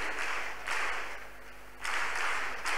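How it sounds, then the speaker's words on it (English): A church congregation clapping hands during a praise and worship session, a steady wash of many hands in surging waves, fairly close and continuous. "The clapping is too small for God."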